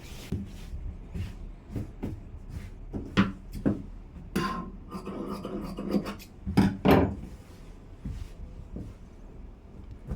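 Scissors cutting through a doubled layer of cotton blouse fabric to shape both sleeves at once, giving a series of close, crisp snips and rasping slices in uneven bursts, with no talking.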